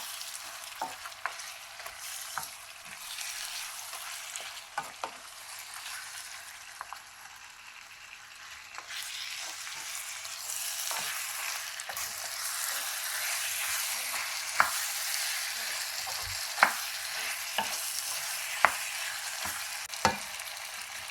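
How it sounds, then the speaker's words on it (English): Marinated mutton sizzles steadily in a hot pan, with occasional sharp clicks and scrapes of stirring over a continuous crackling hiss. "add in the marinated meat and fry it for a good 5 minutes until it takes on a delightful color"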